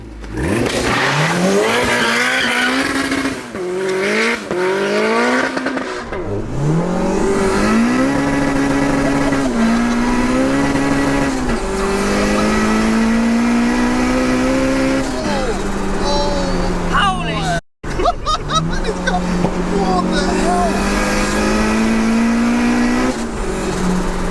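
A 370bhp VTEC turbo Mini builds revs loudly through a series of rising gear pulls, engine tone climbing and dropping at each shift, with a brief cut near the end and someone talking over the engine throughout.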